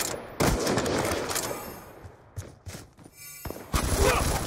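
Gunfire in Call of Duty Black Ops 2 cracks in short irregular bursts and single shots, moderately loud, with gaps of quieter background noise between volleys.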